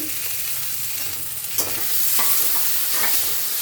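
Chopped tomato and green chillies fry in a pan for poha, giving a loud, steady sizzle close up, with a few sharp stirring scrapes and clicks breaking through.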